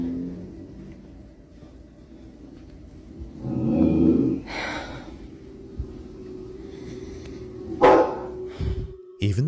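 A family dog indoors gives a few short, separated barks over a low steady hum, with quieter rumbling growl-like stretches between the bursts at moderate distance.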